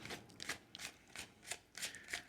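A Lenormand (cigano) deck of cards being shuffled, with six or seven quick riffling bursts in a steady rhythm, close and fairly soft, no voices.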